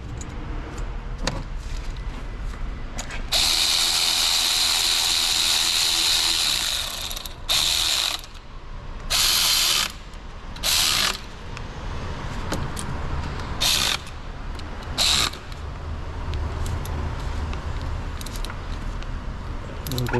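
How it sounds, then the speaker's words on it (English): A hand ratchet tightens aluminum bolts on a BMW 3-series-era car, with rapid clicking spells in short bursts of a second or two between pauses, close up, against a low background hum with occasional voices. "Don't go too much. Those are aluminum bolts. They don't need to be torqued up that much."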